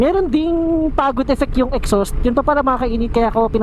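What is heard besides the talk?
No everyday noise stands out behind the speech.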